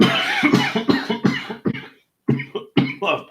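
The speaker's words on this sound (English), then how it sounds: "don't even know where that cough came from" During a livestream, a single person close to the mic lets out a string of harsh, choppy coughs in quick bursts, with a short silent gap before a few more rough coughs.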